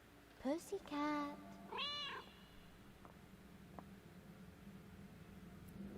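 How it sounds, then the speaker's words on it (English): A cat in the video game Another Sight gives two or three clear, close meows in quick succession, then quiet ambient background noise follows. "make the cat meow while controlling it."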